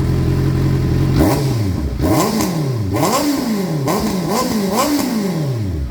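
Honda CBR650R motorcycle fitted with an IXIL Extreme Carbon full exhaust and silencer, revving hard in a series of loud, close throttle blips that rise and fall in pitch over a steady idle.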